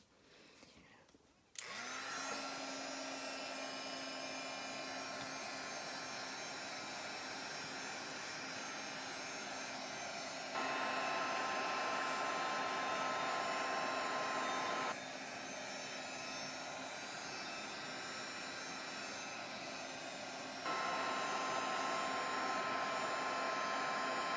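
Hair dryer drying acrylic paint on a mixed media tag, switching on after a brief quiet start and then blowing as a steady, loud, close whir with a faint tonal whine, stepping between two speed settings a few times.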